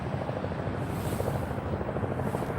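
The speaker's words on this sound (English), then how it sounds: "perhaps you hear the helicopter flying, probably the pattern for the downtown airport" A helicopter drones steadily in the distance on a cool evening near a downtown airport, a continuous low rotor rumble and wash with no break.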